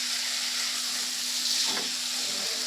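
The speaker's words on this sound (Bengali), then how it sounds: "সব মশলাগুলোকে আমি একসঙ্গে কষিয়ে নেব" Spices and boiled potato sautéed together in a pan for a fish curry, giving a steady soft frying hiss with a brief stirring scrape near the middle; no voices.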